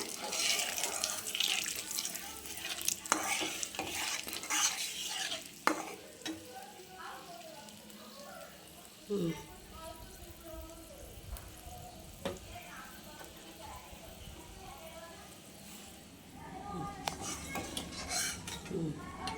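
Ground spices (turmeric, chilli powder, cumin powder and ginger) fry in a pan for a potato rezala, a soft sizzle under intermittent scraping stirs, clatters of a utensil and some splashy water-like noise, fairly quiet and close.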